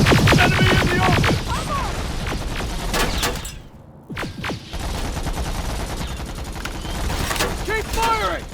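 Sustained gunfire in the Terminator Resistance video game, with dense bursts and fusillades roaring across the clip, a brief lull midway, and game voices shouting over the shooting.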